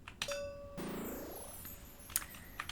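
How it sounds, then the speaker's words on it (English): A bell in the video game Isles of Sea and Sky rings out with a bright, sustained chime that decays slowly, and a second, fainter ring arrives near the end. No one speaks. "is ring this bell,"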